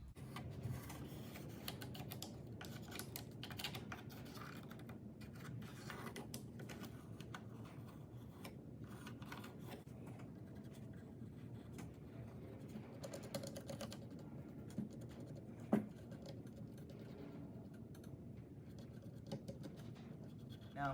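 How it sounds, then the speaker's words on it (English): Steady scratchy scraping of a pencil tracing an outline onto a used, reclaimed wood board, continuous and quiet with small irregular ticks and one sharper click near the end. "So I'm going to trace this."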